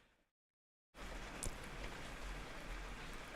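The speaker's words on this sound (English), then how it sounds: "That, my friends, is rain right outside this garage door" Rain falls just outside a garage door, heard up close as a steady, dense hiss that begins abruptly after a brief silence and continues evenly, with no voices.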